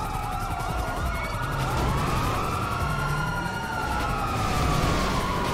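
Several police car sirens wail and overlap in GTA Online, rising and falling continuously over a loud engine rumble.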